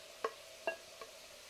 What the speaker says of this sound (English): once the broccoli hits the butter and the hot bacon grease, it just turns a beautiful, brilliant green